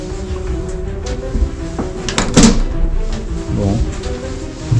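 A door being unlocked and opened in a quiet Finnish house, with a loud metallic clunk of the latch and several dull knocks and thuds spread across a few seconds, close by.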